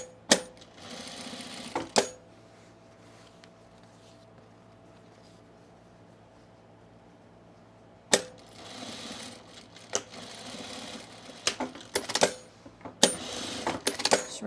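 Sewing machine reinforcing the elastic seams of overalls, with sharp mechanical clicks at the start, a long near-silent stretch, then a run of quick clacking and short stitching bursts close by.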